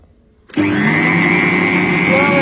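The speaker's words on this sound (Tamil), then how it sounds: "முட்டை கூட வந்து பாத்தீங்கன்னா சக்கரை பவுடரும் போட்டு நல்லா மிக்ஸ் பண்ணியாச்சு" An electric mixer whirs into life after half a second of quiet and keeps up a loud, steady drone while beating eggs with powdered sugar for a cake.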